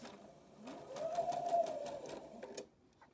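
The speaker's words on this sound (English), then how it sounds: "Keep track of what's happening underneath the presser foot" Sewing machine stitching a scrub cap, a short, fairly quiet run of rapid needle stitches that rises and then fades out.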